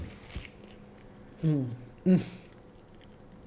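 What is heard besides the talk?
biting and chewing a fish burger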